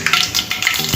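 Curry leaves and mustard seeds frying in hot oil as a tempering for a cucumber yogurt chutney, giving a close, steady sizzle with crackling pops over about one second.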